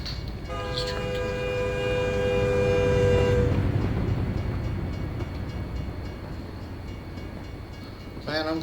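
A train in a video game sounds a long, loud horn blast while rolling past, then its rumble and rattle carry on after the horn stops, ending with a short whistle-like note.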